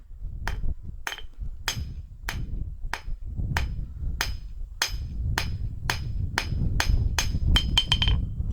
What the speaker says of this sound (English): you can just shave a little bit more off of it on the corner of the anvil there